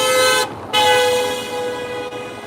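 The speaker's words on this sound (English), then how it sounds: "Yeah, military car." A military car blares its horn in a loud, steady tonal honk that breaks off briefly, then resumes and holds to the end, with traffic rumbling underneath.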